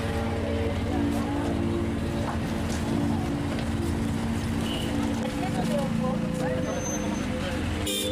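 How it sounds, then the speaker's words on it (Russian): Steady motor rickshaw (tuk-tuk) engine drone on a ride through Delhi's streets toward the Red Fort, a constant loud rumble with passing traffic noise and faint voices in the background. "после обеда, как и планировалось, отправились на моторикше к Красному форту"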